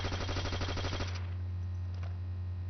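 Rapid automatic fire from an FG 42 shot from the hip in Call of Duty: World at War, a loud dense burst of shots for about a second, then a quieter tail with a faint click, over a steady low hum.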